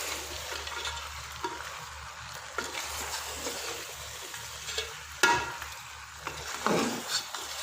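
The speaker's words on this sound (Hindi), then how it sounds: "अब इसको अच्छी तरह से मिक्स कर देंगे।" A spoon stirs spices, dried coriander and garam masala into a chicken gravy, with soft sizzling under scrapes and a few sharper clinks against the pot, including one firmer knock near the end.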